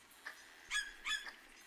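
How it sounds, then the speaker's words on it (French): A short bird cry in three quick rising notes, thin and somewhat hoarse, heard alone against a quiet background, in a tabletop role-playing game session. "un cri d'oiseau, fatigué, brise ces petites musiques."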